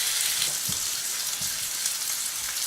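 Food frying in a fully heated Masterpan pan gives a steady, close sizzle with a few soft low knocks, with no talking.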